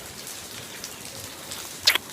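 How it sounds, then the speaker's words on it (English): Water from the mountain dripping inside a cave, a soft patter of scattered drops like light rain, ending with one sharper, brighter splash close by. "Not really raining, just water from the mountain dripping on us."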